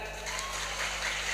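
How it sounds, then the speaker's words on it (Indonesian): Children and guests at an Islamic boarding school gathering clap together in a soft, steady patter of applause heard from a distance with background hum. "Tepuk tangan."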